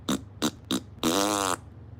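A voice imitates a fart: three short sputtering bursts followed by one longer buzzing blow, close and fairly quiet.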